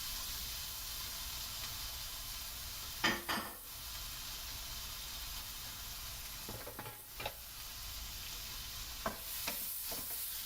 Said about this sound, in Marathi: आणि छान आता सॉटे करून घ्यायचे